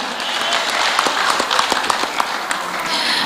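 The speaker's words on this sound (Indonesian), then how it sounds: "Kita berikan aplaus untuk semua pasangan calon" A crowd at a public debate for Manado mayoral and deputy mayoral candidates applauds, a dense, steady wash of clapping from start to finish.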